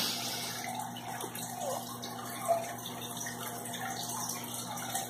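Water runs and gurgles steadily in a home aquarium whose tank is not kept filled, a constant splashing trickle under a low electrical hum with one brief louder splash midway.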